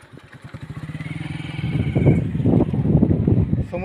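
A tractor works beside a newly laid railway track, spreading ballast gravel onto the sleepers; its diesel engine chugs steadily up close, then grows louder and rougher with clattering and rumble as the load is worked.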